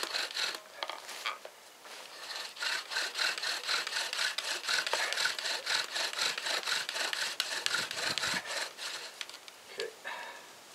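A bow drill spins in a wooden socket during a friction fire attempt, giving a steady back-and-forth rasping rhythm of rapid strokes that carries on for several seconds, close and fairly quiet.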